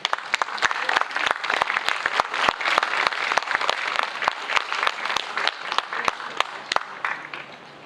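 Audience applause for secondary-category finalists at an English poetry writing and recital contest in Macao, steady and dense with sharp individual claps standing out, sustained for several seconds and tapering slightly at the end.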